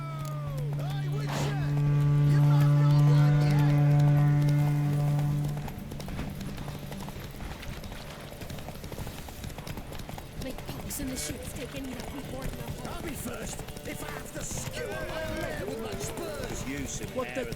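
Hooves clip-clop in a steady galloping rhythm from a horse race in the video game The Witcher 3, running continuously under a sustained musical tone and scattered voices.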